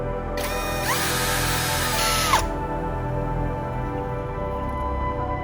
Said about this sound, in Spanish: Con el taladro y un avellanador, repasaremos de esta manera el orificio del tubo.